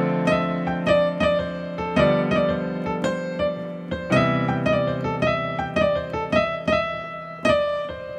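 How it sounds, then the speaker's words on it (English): Solo jazz piano played near, with repeated short phrases in which a finger slides between adjacent keys into a note, struck in a steady, lilting rhythm with sustained chords ringing underneath. "This is the sound of slides."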